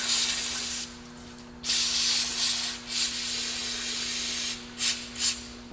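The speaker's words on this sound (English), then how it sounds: "clean it out with some brake cleaner" Brake cleaner sprays in long, loud hissing bursts close by while cleaning a 1999 Acura CL/Accord clutch master cylinder, with short pauses between blasts and a couple of quick spurts near the end.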